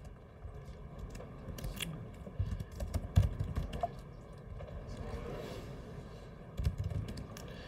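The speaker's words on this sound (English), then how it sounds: "Forgive my terrible typing." Continuous typing on a computer keyboard during a programming demonstration on debugging and profiling, a steady patter of quiet key clicks with a few louder taps, close and alone.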